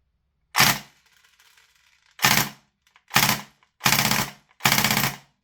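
A VFC M249 gas blowback airsoft gun fitted with a heavy recoil kit fires five short, sharp bursts, each a loud close rattle of rapid clacking shots separated by brief silences.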